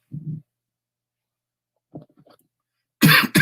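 Coughing from someone with allergies: a short low burst, then a faint broken cough, then a loud, harsh cough close up at the end, with quiet gaps between.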